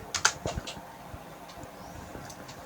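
Fingers type on a computer keyboard while HTML form code is entered, with a few quick clustered keystrokes early on, then sparse soft taps, close and fairly quiet with no talk.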